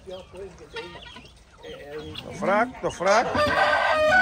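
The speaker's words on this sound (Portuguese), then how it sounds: "Um monte de galo, hein, gente. Olha que galo, ó." Several roosters crow and cluck on a rural backyard poultry farm in Brazil, the loud crowing rising in the second half and overlapping, with a person speaking briefly near the start.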